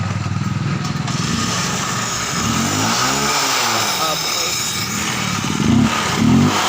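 A running engine with a fault that produces a snake-like hissing puff, revved up and down nearby while someone talks over the steady mechanical noise and a couple of louder bursts near the end.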